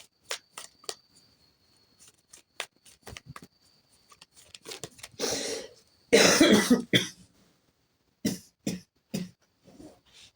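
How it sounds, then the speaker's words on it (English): Repeated coughing from a person doing a tarot card reading, heard close up as many short, sharp bursts and throat clears with brief pauses between them. "Dang it, I didn't start coughing until I started doing this."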